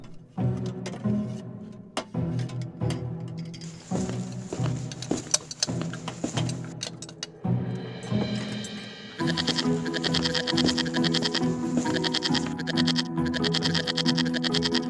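Cartoon goats bleat in a series of short, wavering calls over a background of music and sound effects, getting busier and denser toward the end.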